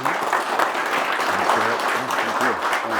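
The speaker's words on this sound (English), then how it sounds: "Let's give Jim a round of applause." Seminar audience gives steady applause for fishing speaker Jim Kusuda, a continuous close wash of clapping with a voice or two speaking faintly underneath.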